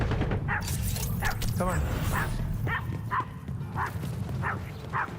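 Dogs yip and bark in a repeated series of short, close barks through a room while people speak over them.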